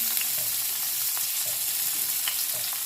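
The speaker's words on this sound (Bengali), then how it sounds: "ওই তেলে আমি পেঁয়াজ ভেজে নেব আর দিয়ে দেবো রসুন" Onion and garlic fry in oil left over from frying fish and potatoes, a continuous close hissing sizzle with faint scrapes from stirring.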